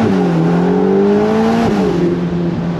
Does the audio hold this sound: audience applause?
no